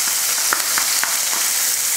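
Chopped small onions sizzle in hot oil with cardamom, cloves, star anise and curry leaves for a mutton kofta curry, a loud continuous frying hiss with a few soft stirring clicks, no talk.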